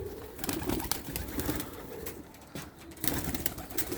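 Several Hünkari pigeons coo in soft, rolling bursts, close by and overlapping, with a low murmur of birds throughout.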